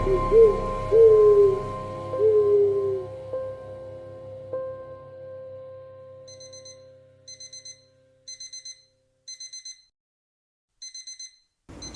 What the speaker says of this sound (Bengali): রাতচরা পাখির আওয়াজ ভেসে আসছে মাঝে মাঝে